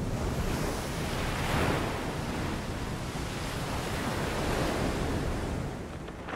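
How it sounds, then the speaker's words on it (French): Heavy sea swell with waves breaking continuously, a loud, dense roar of surf and churning water that rises and falls over several seconds, with wind rushing across the microphone and no voices. "la houle est effectivement au rendez-vous"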